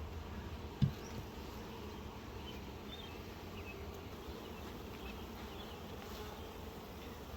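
Honey bees give a steady, faint, droning buzz that fills the air throughout a hive inspection, with one soft thump near the start and no talking.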